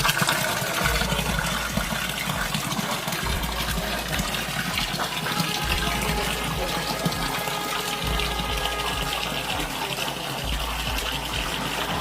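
Water gushing steadily at the source of the Son river, a constant close splash and rush with no voices, carrying on evenly throughout.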